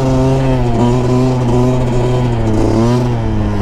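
A Yamaha YZ 125 motorcycle engine runs close and loud in a sustained revving drone, its pitch holding steady before lifting slightly near the end.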